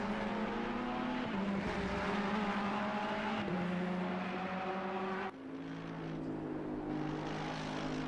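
Ferrari race car engine with traction control at Oulton Park in a racing video game, droning loud and steady with shifting pitch steps as the revs change, the tone dropping slightly near the end, no voices.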